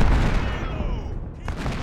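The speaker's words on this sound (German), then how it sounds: "So, Kanonen dahin feuern." Civil War cannon fire in the strategy game Ultimate General: Civil War, a heavy boom at the start rolling into a rumbling decay with a fainter distant shot near the end.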